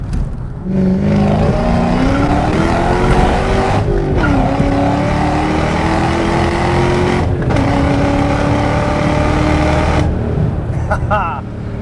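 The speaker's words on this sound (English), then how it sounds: "Exhaust sounds fantastic." A supercharged 4.6-litre 2006 Ford Mustang Saleen drives with a loud, continuous exhaust drone whose pitch climbs steadily, interrupted by brief dips as it shifts gears.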